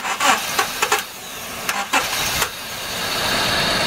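A Honda Domani with a D15B engine cranks with several sharp bursts, catches and settles into a steady, loud idle that rises slightly, heard up close with no talking.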